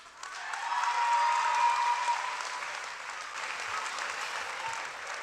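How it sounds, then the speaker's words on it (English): Sustained audience applause fills a large room at a morning announcement event, a dense wash of clapping that swells early and then holds steady at a slightly lower level. "Give another round of applause to our 3 student leaders"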